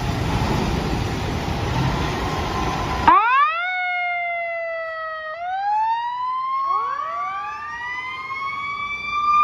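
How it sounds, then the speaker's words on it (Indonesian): A toy super fire truck lets out a loud electronic siren that wails in rising and falling sweeps after a burst of noise at the start. "Mobil pemadam kebakaran super truk yang sangat mantul sekali"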